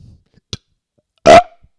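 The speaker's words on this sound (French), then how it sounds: "J'ai roté un bon coup." A single loud burp, close and abrupt, follows a tiny click in otherwise near silence.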